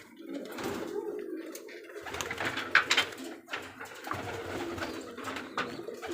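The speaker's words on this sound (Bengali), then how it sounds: "আচ্ছা সব ছেড়ে দেন কবুতর" Giribaj highflyer pigeons coo and flutter close by at a pigeon farm in Rajshahi, with soft low calls repeating under faint background voices and rustling.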